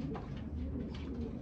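A blue bar racing pigeon hen coos softly in a breeding loft, a short run of low, throaty rolling coos close to the microphone.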